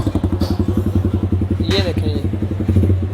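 An idling motorcycle fitted with an SC Project cafe racer silencer thumps out a rapid, even exhaust pulse close to the microphone, with a brief blip of revs midway, while someone speaks over it.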